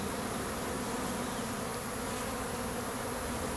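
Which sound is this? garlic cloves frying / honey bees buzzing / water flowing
honey bees buzzing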